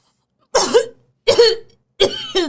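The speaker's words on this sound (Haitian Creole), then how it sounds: "M'tousse ya m'a kon fumer." Three sharp coughs close to the mic, evenly spaced, each with a short rasping tail and brief silences between.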